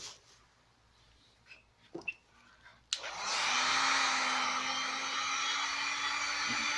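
A heat gun switches on with a click after some soft handling noises and then blows a loud, steady whooshing hum, warming graphics on a jetski so they can be peeled off.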